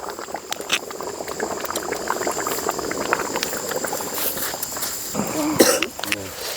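A thinned eggplant curry in a large pot bubbles and sloshes as it is stirred after water is poured in, a steady wet simmering texture with occasional scraping and a cough nearby.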